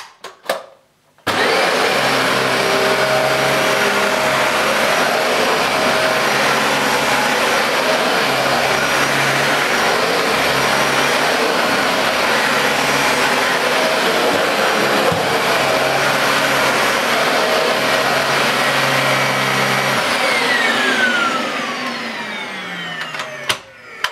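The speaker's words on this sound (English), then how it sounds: "I'll leave the final movements and the final piece of this little video to the vacuum in front of me, picking up real human hair" A vacuum cleaner runs steadily up close while picking up real human hair, switching on with a loud whirring roar that holds for about twenty seconds before winding down.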